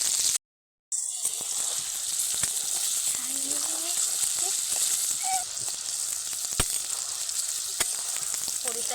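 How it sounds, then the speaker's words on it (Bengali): Paneer pieces frying in hot oil give a steady, close sizzle with crackling pops; a brief dropout comes near the start, and no one speaks. "একই তেলে একে একে পনিরগুলো দিয়ে দেবো ভেজে নেবো"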